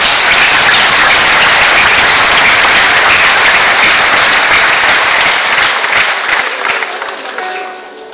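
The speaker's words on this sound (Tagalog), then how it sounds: "bigyan natin ng palakpak" Church congregation applauds in a Sunday service, sustained dense clapping that stays loud for several seconds and then tapers off toward the end.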